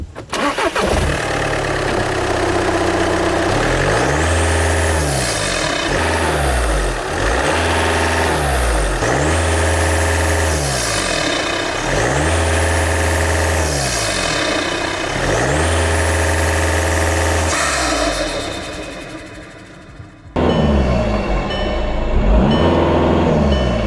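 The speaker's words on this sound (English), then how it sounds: "This is starting the car with absolutely no air filter." A turbocharged car engine with its air filter removed cranks and fires, then is revved repeatedly, loud throttle blips rising and falling close by, ending with a brief drop before idling again.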